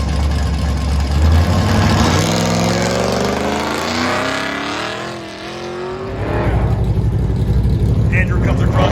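Summit Racing Corvette engine on an autocross course, rising and falling in pitch as it accelerates and shifts, loud and close, with an announcer talking over it.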